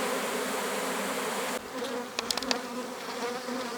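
A dense, steady drone of honey bees swarming around an apiary, a close, loud hum that thins briefly partway through, with a few sharper buzzes of individual bees passing the microphone.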